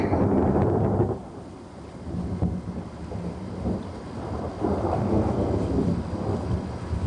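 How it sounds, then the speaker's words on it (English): Deep rolling thunder rumbles through a summer thunderstorm, a loud drawn-out roar that swells and fades for several seconds with faint rain hiss and no voices. "And there comes the thunder."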